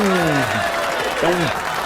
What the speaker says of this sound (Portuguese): Mas muitas palmas, muitas palmas.